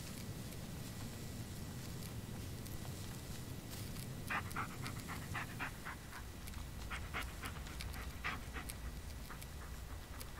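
A dog panting steadily in the Blair Witch video game, quick rhythmic breaths close up over a constant low rumble of forest ambience, with faint footstep-like clicks partway through.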